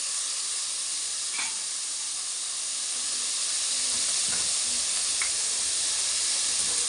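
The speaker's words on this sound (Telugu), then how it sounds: "ఇప్పుడు శనగపప్పు వేద్దాం. ఒక్కసారి నూనెలో కలిపేద్దాం." Chana dal sizzles in hot oil after ginger and garlic, a steady loud hiss with faint stirring clicks over several seconds and no voices.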